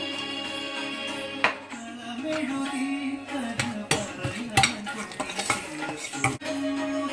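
Garlic fries in oil in a pan while a metal spoon stirs it with turmeric, giving repeated clinks and scrapes against the pan over a soft sizzle, close by.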